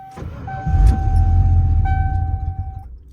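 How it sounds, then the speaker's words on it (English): A truck engine in cold weather cranks and catches into a low, rumbling idle, with a faint steady electronic chime tone above it, close and alone for a few seconds. "I don't think I've ever started my truck this cold yet"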